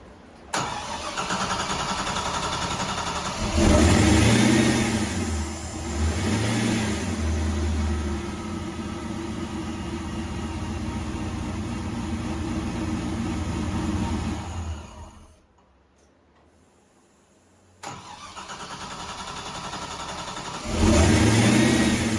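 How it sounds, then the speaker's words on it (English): An LS-swapped Exocet kit car with a newly installed Haltech engine management cranks and fires up, revving briefly then settling into a steady idle, cut off for a moment before the engine runs and revs again, loud and close. "it cranks a little bit longer, but it does, you know, seem to run fine"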